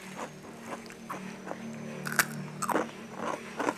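Close crunching on a crispy fried snack: several sharp, irregular bites and crackles over a steady low hum, with no talking.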